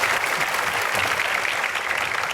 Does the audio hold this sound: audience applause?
yes